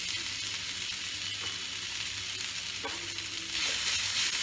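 Steady hissing sizzle of ginger garlic paste hitting hot oil in a pan for fish curry with shol fish, constant and close, with a faint stirring scrape and no talk.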